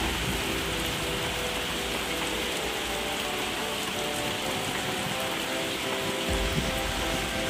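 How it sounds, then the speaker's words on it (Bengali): Heavy rain pours steadily outside an open window during a storm, a dense continuous hiss of drops drumming on surfaces close by, with no voices. "তোমরা কি বৃষ্টির শব্দ শুনতে পাচ্ছ?"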